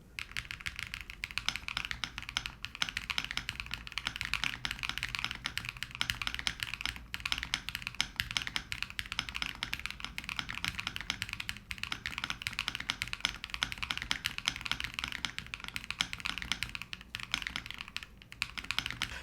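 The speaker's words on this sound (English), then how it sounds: "Typing feels very soft." Steady, continuous typing on a Thera v2 mechanical keyboard fitted with PBT keycaps and mid-plate foam, producing soft, dense keystrokes in a fast, unbroken rhythm, close up with no voices.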